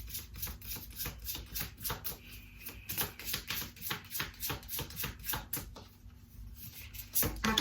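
Tarot cards being shuffled, heard as a quiet, rapid train of soft riffling clicks in uneven bursts, close and faint, with no speech.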